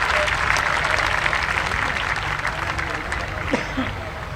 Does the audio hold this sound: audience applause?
yes